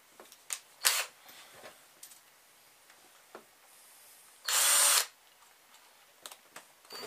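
Power drill spinning a length of wire held taut in its chuck to twist it straight, one short close whirring burst of about half a second amid quiet handling clicks and taps.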